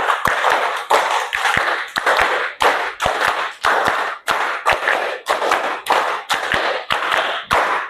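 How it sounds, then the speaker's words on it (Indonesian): A classroom of students claps in unison in a counted drill, about a dozen sharp, evenly spaced group claps ringing out loud and close with no talking over them. "tepuk 4, tepuk 5. Tepuk 5 kali."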